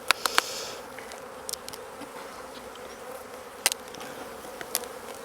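Honey bees buzz steadily around an open hive during a spring inspection, a continuous close hum with a few sharp clicks and knocks now and then.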